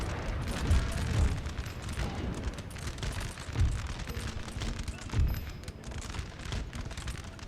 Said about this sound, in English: And now I want to concentrate all artillery fire on this one.